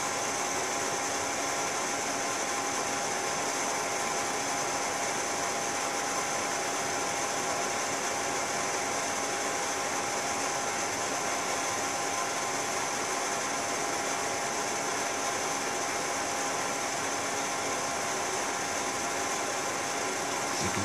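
A Google Mini search appliance server runs loudly during boot, giving a constant, even broadband whoosh of fan noise that holds steady, close and unbroken for about twenty seconds without any voices.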